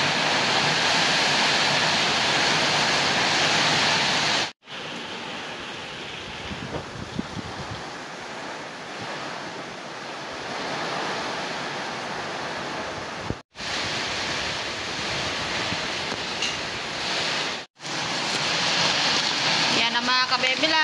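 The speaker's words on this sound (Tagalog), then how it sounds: "Bale, meron na pong kalakasan ang hangin at ulan." Strong wind and rain of Typhoon Opong in Oriental Mindoro roar as a dense, steady wash of noise, interrupted by a few abrupt cuts, with a faint voice now and then.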